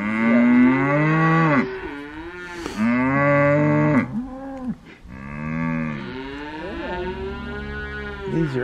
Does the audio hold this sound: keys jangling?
no